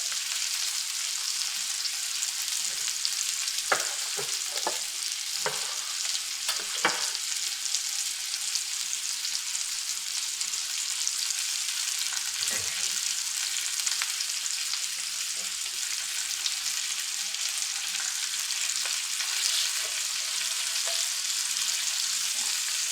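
Liver fries in a pan with a steady, moderately loud sizzle, broken early on by a few sharp splattering pops and clicks. It then settles into an even hiss for the rest of the stretch, with no speech.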